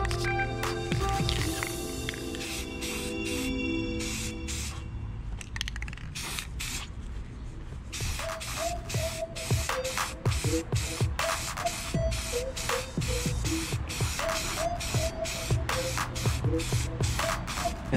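A Rust-Oleum bumper and molding paint rattle can sprays in long, loud hissing bursts with brief pauses between passes, a few faint rattles and drips mixed in.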